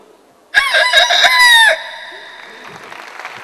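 A person's voice imitates a rooster, with one loud, close cock-a-doodle-doo crow lasting about a second, followed by faint, trailing clucking sounds.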